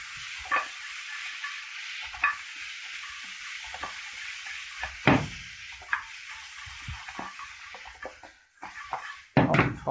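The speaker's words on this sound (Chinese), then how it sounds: "大家可以把准备好的食材豆角放在锅中和排骨一起炒" Green beans and pork ribs stir-fried together in a wok give a steady, close sizzle, broken by irregular scrapes and clacks of the spatula tossing the food, with louder clatters near the end.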